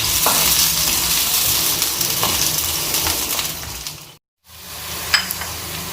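Onions sizzle and fry in a hot pan for a white chicken korma, with steady crackling and occasional stirring scrapes close up, a brief gap of silence near the end before the sizzle resumes.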